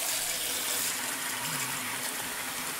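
Cold water pours steadily into a container holding brine for a turkey, a continuous broadband rush with no pauses and no voices.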